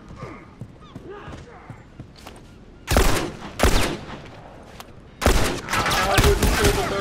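Bursts of rifle fire from a burst-fire weapon in a first-person shooter match on the Wharf map, cracking out in three loud clusters over a low murmur of background voices, the last burst running longer.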